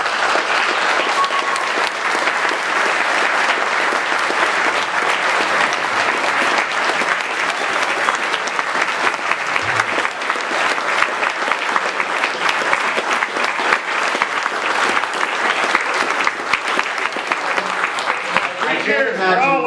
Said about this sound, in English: Can we please have a round of applause for all the candidates?